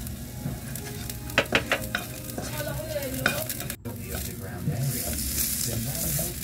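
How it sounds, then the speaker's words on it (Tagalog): Garlic sautéing in a little oil in a frying pan gives a steady close sizzle, broken by repeated scrapes and light metal clinks as it is stirred. "Konting mantika lang po para sa paggisa ng ating bawang."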